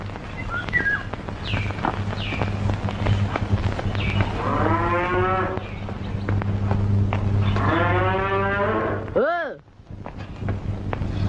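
A cow lets out two long, loud moos close by, with voices talking and a steady hum in the background.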